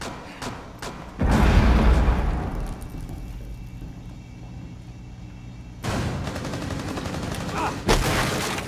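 A grenade blast and gunfire in Rainbow Six Siege on the Kafe Dostoyevsky map: a heavy low boom rumbles for several seconds, then fresh bursts of loud shots and impacts follow close by.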